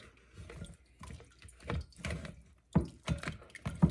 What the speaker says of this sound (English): you just press as much of that whey out of there as you can.